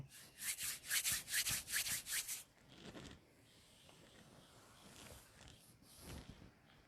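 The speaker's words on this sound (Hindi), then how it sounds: "पहले अपनी हथेलियों को रगड़कर अपने मुखमंडल पर फेर लेंगे।" Palms rub together briskly in a quick series of about ten dry, close swishing strokes, then the sound gives way to quiet breathing and faint rustles.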